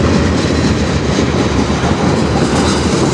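X383 freight train rolling past on the Strathroy Subdivision, a loud, continuous rumble and rattle of railcars close by, steady throughout with no talk.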